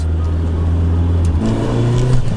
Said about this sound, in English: I've missed the sound of this car